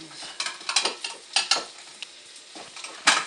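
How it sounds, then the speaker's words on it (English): Yellow pear tomatoes fry in a pan over slightly above medium heat, with steady sizzling broken by repeated stirring scrapes and light clinks of utensil on pan, close and fairly loud, with no talking. "I'm on about 7, a little more than medium heat to fry these up quick."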